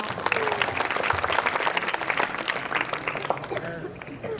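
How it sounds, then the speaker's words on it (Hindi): Audience applause greets a student speaker at a school G20 art-in-education workshop, a dense round of clapping that fades toward the end, with some crowd murmur under it. "तालियों से आमंत्रित करें भाविक को।"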